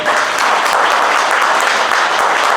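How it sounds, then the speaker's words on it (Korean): A fan-party audience at a fishing event gives sustained, dense applause, loud and even throughout with no talking. "일단 박수 한번 주시고요"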